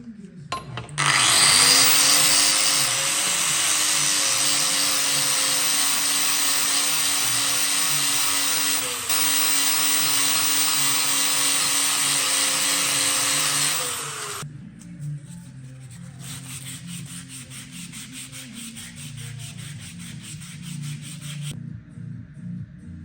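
Front beam parts from a 1957 Volkswagen Oval Beetle polished with a power tool, a loud close whirring rub with steady grinding friction that runs for about fourteen seconds, then stops and leaves quieter handling noises.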